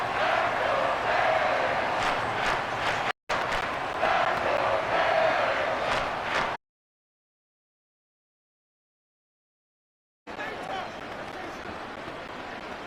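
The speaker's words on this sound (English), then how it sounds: "This crowd turning up the decibel level" Football stadium crowd at a Bears versus Dolphins game in the fourth quarter, a loud sustained roar of many voices building over several seconds, broken by a short dropout and a long silent gap before the din resumes.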